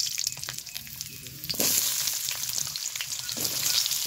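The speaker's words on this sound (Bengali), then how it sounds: "এই গরম তেলে দিয়ে দিব কেটে রাখা আলু" Cut potatoes drop into hot mustard oil in a wok, and a loud, hissing sizzle swells up suddenly and carries on steadily after the quiet start.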